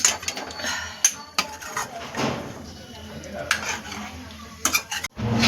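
Paneer is stirred gently into masala in a handi-style pot, producing intermittent metal spoon clinks and scrapes against the vessel, close by, with someone talking in the background.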